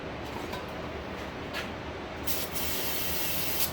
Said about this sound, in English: A little bit of a carb cleaner, and take that black right out of there.